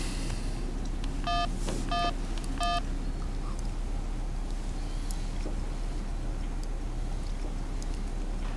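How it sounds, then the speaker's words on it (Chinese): Telephone keypad dialing tones: three short, evenly spaced beeps near the start, then a steady low background hum with no voices. "爸爸现在就给妈妈打电话"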